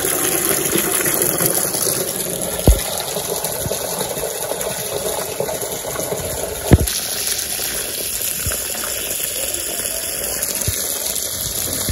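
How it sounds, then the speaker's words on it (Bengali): Water runs steadily onto a rice paddy from a pump or channel, a continuous gushing wash with a low engine-like hum beneath it and a couple of brief knocks, close and fairly loud throughout. "তাহলে যে ধানে জল দিব"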